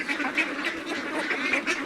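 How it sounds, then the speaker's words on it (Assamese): A flock of 62-day-old farm-raised ducks quacks continuously in overlapping, nasal calls, fairly close and steady, with no voices. "62 ডেইজৰ হাঁহ।"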